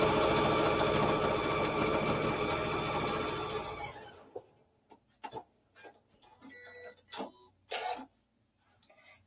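A sewing machine quilts a fabric pin display, running in a loud, steady buzzing stitch for about four seconds before stopping, followed by faint scattered clicks and handling sounds.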